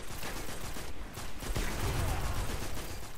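Automatic fire from an auto rifle in the Destiny Trials match Bannerfall, a dense continuous rattle of shots close by, mixed with game noise and some talk.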